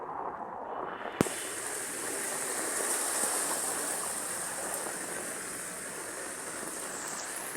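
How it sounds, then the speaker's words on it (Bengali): Steady rushing floodwater from heavy rain flows continuously through a street in Gazipur, a broad wash of noise with a sharp knock near the start and no voices. "ভয়াবহ অবস্থা বৃষ্টির পানিতে, পুরো বন্যা হয়ে গেছে এই জায়গা দিয়ে"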